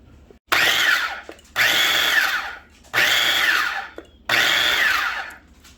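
Food processor pulsing chipotle garlic smoked bone marrow compound butter, four loud, close motor bursts about a second each, separated by short pauses, with no voices.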